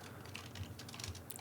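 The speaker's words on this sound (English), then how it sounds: "We can find out about that by typing" Quiet typing on a computer keyboard, a soft, rapid patter of key clicks with no talk.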